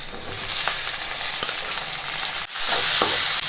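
Onions and tomato sauté in a pan, giving a loud continuous sizzle with occasional spatula clicks and stirring scrapes, and no talk.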